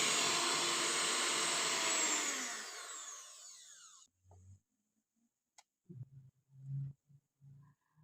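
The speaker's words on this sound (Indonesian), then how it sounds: "All in gitu, dikocok di mixer." An electric mixer beating an all-in cake batter that includes Fanta, a steady loud whirring drone that tapers off after about four seconds, followed by quiet scattered clinks and bumps.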